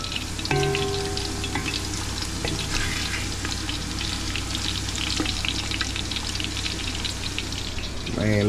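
Sausage frying and browning in cooking oil in a pot for a Cajun chicken and sausage okra gumbo, a steady close sizzle and crackle running throughout, with faint voice and a brief stir or clink near the end.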